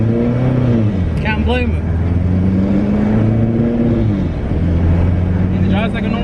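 Turbocharged all-wheel-drive Honda car with about 480 horsepower, a close, heavy engine drone and exhaust rumble heard from inside the cabin, rising briefly in revs, with people talking over it.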